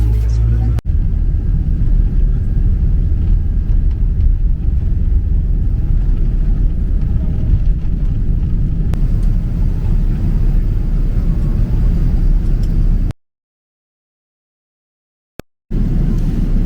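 An airliner rolling along the runway in Bali gives a steady, loud low cabin rumble of engines and wheels for about thirteen seconds before the sound cuts out abruptly.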